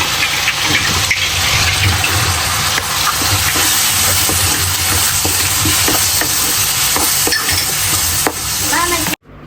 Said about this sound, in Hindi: अभी मैं यहाँ पे इसमें 2 फ्रोज़न टमाटर ऐड कर रही हूँ। इसको भी हम अच्छी तरह से भून लेंगे।